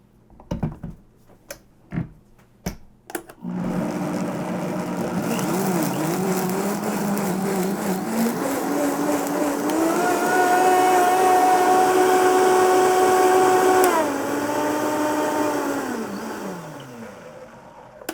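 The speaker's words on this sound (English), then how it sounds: "Blenderize." Blender whirring through sunflower seed mayonnaise with maple syrup, starting after a few clicks and knocks, climbing in pitch as the motor settles, holding a loud steady whine, then winding down near the end.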